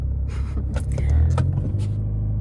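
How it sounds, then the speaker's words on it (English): A car engine idles with a steady low rumble that fills the whole stretch, with faint interior rustles and soft movement sounds riding on top. "maybe I'll turn off the car"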